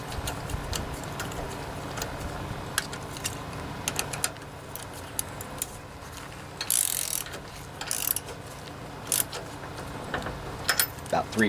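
Ratchet tightening a new NGK BKR5E spark plug on a Briggs and Stratton OHV Intek engine, heard as close, repeated clicking ratchet strokes in a steady run with a few sharper bursts, no voice over it.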